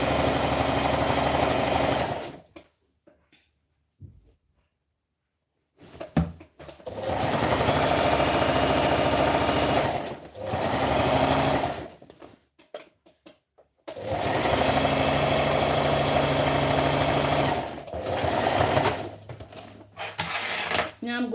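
A sewing machine stitching a garment seam runs in several long, steady, loud buzzing stretches separated by short pauses with faint handling sounds.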